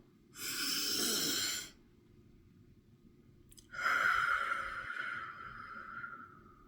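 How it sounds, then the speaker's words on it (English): A deep breath drawn in, then a long, slow breath let out after a short pause, close and fairly loud in an otherwise quiet room, with no talking. "So like for me to do a deep breath now."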